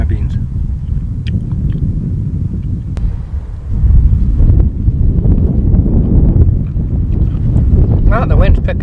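Wind gusting steadily on an outdoor desert hike in Wadi Al Hessiah, a loud broadband rumble of microphone buffeting that strengthens partway through, with no talk over it.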